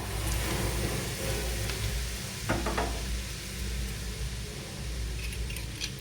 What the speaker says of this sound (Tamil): இதோட சுட சுட எண்ணெய் ஊற்றிக்கணும்